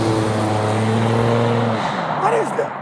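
A Buick Grand National turbo car drives by with a loud, steady engine drone that shifts pitch as it passes, fading away near the end, with possible voices underneath.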